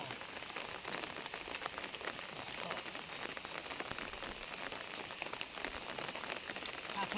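Steady rain falls outdoors on surfaces around a finger millet farm, a dense, even patter that holds at moderate loudness throughout with no pauses.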